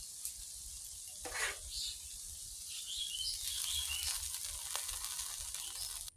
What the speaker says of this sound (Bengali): সামান্য কষিয়ে অল্প করে জল দিয়ে দিব